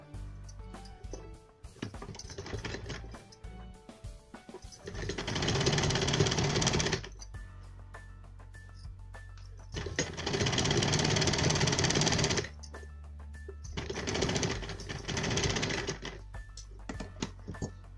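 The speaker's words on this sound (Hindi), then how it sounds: "चारों तरफ इसको मोड़ते हुए यहाँ पर मैं सिलाई लगाऊंगी" A sewing machine stitches a folded sleeve edge in three loud, steady bursts of whirring, separated by short pauses filled with quieter handling noise.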